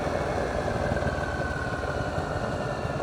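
A motorcycle rides through the Kallio district of Helsinki on a July evening, its engine giving a steady, close, continuous drone with a fine vibrating buzz.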